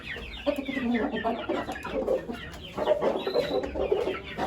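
Turkey chicks peeping and clucking close by in a farm pen, a busy continuous chatter of small fowl calls with no talk.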